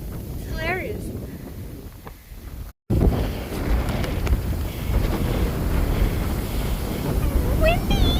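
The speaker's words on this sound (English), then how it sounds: "It's like 35 knot winds up here." Strong wind of about 35 knots buffets the microphone on the Larapinta Trail with steady, heavy low rumble throughout, briefly cutting out once, with a voice heard faintly at moments.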